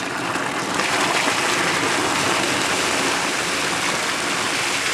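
Water from a pool filter line floods out onto the ground in a steady, loud, continuous rushing gush with a broad hissing texture, close by and with no voices.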